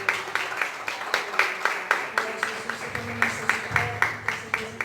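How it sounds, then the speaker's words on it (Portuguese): A church congregation claps together in a steady, rhythmic beat, sustained and fairly loud, with a faint voice underneath. "Em nome de Jesus, aplauda o Senhor."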